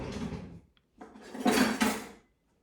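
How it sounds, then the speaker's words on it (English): A kitchen drawer is pulled open with a wooden slide and a rattle of cutlery inside. There are two close bursts of scraping and clattering separated by a brief pause. "Austin, reach in the drawer and hand me a knife, a sharp knife, not a butter knife."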